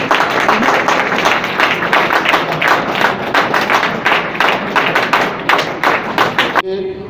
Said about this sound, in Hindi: तालियां करनी चाहिए।